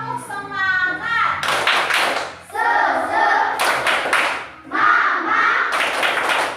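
An elementary school class performs a rhythmic spirit clap, bursts of sharp clapping patterns alternating with children and a teacher chanting and speaking between the claps.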